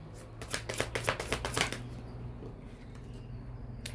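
Tarot cards riffled in a quick run of crisp, papery flutters for about a second and a half, then a quieter pause with a single soft card snap near the end, close and clear with no talking.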